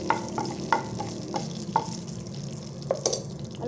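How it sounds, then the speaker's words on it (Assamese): Bay leaves crackle and sizzle in hot oil in a kadai, with sharp spitting pops scattered over a steady frying hiss, close and fairly loud. "ইয়াত এতিয়া তেজপাত দি দিছোঁ।"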